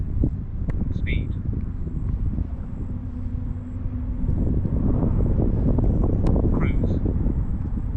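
Strong gusty wind buffets the microphone outdoors during a model glider flight in high winds, a loud, steady low rumble that swells toward the end, with someone speaking briefly over it.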